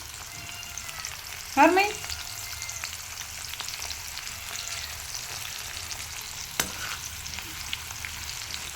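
Boiled chicken and onions frying in hot oil give a steady, fairly quiet sizzle throughout, with a brief louder burst near the start and one sharp click later; a single short word is spoken.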